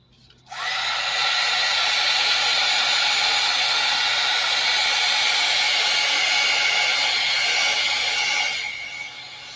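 A hair dryer blows steadily and loudly on a painted wooden stencil for an advent calendar. It switches on after half a second, holds a constant airy roar, then drops away near the end.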